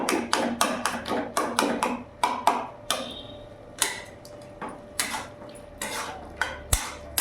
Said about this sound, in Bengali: ভালো করে নাড়াচাড়া করে নিলাম।